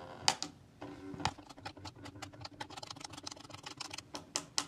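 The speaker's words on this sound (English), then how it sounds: "You can hear that familiar thermal printer sound." Rapid, irregular ticking and clicking from the built-in thermal printer of a Clockwork Pi DevTerm A06 as it prints, close and fairly quiet, with a few sharper clicks, no talking.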